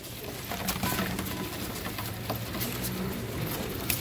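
Pigeons of several show breeds coo softly amid a busy background of rustling and patter, the low murmuring calls repeating steadily across the loft.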